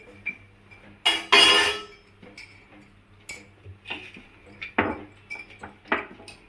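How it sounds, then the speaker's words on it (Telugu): A metal kadai pan is set on a stovetop with a sharp clank and scrape, followed by softer clinks and light knocks of utensils against cookware, close and intermittent in a quiet kitchen. "ఫస్ట్ ఒక కడాయి పెట్టుకుని వస్తాం నూనె పోస్తాను"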